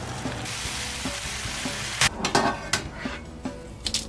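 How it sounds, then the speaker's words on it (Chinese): Garlic sizzles steadily in a hot pan as it is stir-fried, with a spatula scraping and clinking against the pan in quick, irregular strokes during the second half, close and clear with no talking. "把蒜给爆香"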